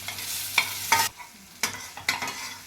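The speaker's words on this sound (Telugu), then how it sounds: "ఇప్పుడు ఒక స్పూన్ జింజర్ గార్లిక్ పేస్ట్ అందులో వేసుకొని దాన్ని కూడా బాగా వేయించుకోవాలి" Ginger garlic paste and tomatoes fry in a pan for a gongura egg curry, with a soft sizzle beneath a handful of distinct scraping stirs that come in short bursts.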